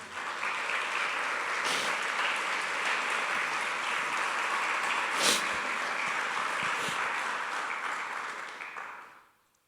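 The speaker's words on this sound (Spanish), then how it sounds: "Dele un aplauso al Señor, hermano." Sustained applause from a church congregation, steady and fairly loud for about nine seconds before fading out, with no talk over it.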